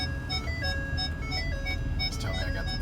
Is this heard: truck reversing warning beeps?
yes